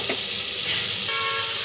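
Vegetables tipped into a pan of tomatoes cooked down in oil for pav bhaji, giving a steady close sizzle and frying hiss with some stirring, no talk.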